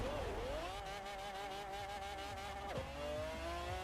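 An F1 GT car in Forza Horizon 4 pulling hard through a long first gear toward 100 mph, its engine note climbing steadily in a continuous whine with a brief dip partway through, loud and close with no speech.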